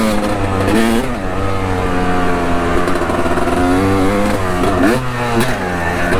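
A 250 two-stroke dirt bike rides off on trails at a riding park, its engine buzzing loud and close, revving up and down through the gears with rising and falling pitch throughout.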